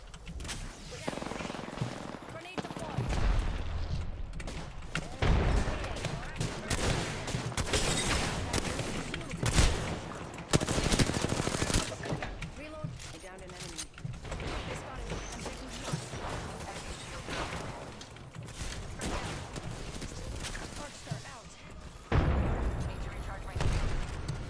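Apex Legends match gunfire, including sniper shots, sounds as rapid bursts and booming volleys that crackle on and off. Players talk excitedly over the shooting.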